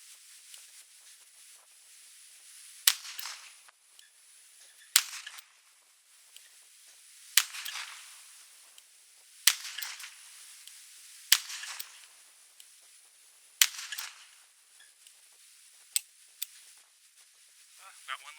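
Colt Python revolver firing about eight sharp, crisp gunshots spaced a couple of seconds apart, each with a short ringing tail, heard at moderate distance with faint background hiss.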